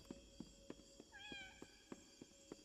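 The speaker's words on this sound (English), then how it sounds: "Oh, can I pet the kitty again?" A cat meows once in the video game Indigo Park, a short rising call in the middle of a quiet scene, set against a steady background tone and a string of soft, evenly spaced footstep-like thuds.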